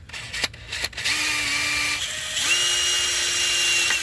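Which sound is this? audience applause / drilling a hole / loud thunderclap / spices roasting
drilling a hole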